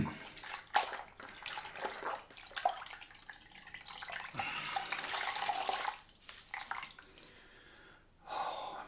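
Tap water runs steadily as a shaving cloth is rinsed beneath it, a continuous close splashing rush with a few brief dips and a pause before the flow picks up again at the end.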